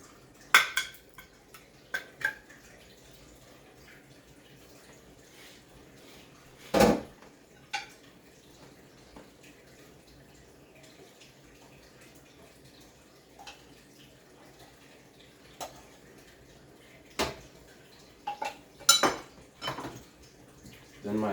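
Sweetened condensed milk can being forced open without a can opener in a kitchen: scattered sharp metallic clanks and scrapes, a few louder knocks, with quiet gaps between.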